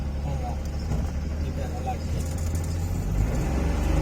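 A car driven by a learner has a low engine rumble that holds steady and swells slightly toward the end, with people talking over it.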